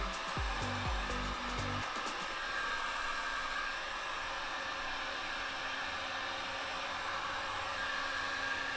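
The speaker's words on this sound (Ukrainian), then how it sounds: "Беремо фен," A hair dryer heating motorcycle stickers blows with a steady, loud whooshing roar that runs the whole time, with a few clunky handling noises near the start.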